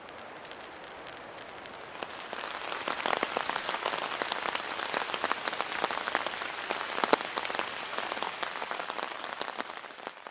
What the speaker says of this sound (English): Actually a few wet flurries dropping right now.